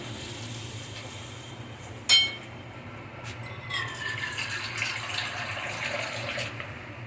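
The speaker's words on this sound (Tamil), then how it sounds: "இன்னும் 1/2 கப்பு தண்ணியை இதில் விட்டுருக்கேன்." Water is poured into a bowl of gram flour batter. A faint, steady trickle and splash is heard after a brief knock, in a quiet kitchen.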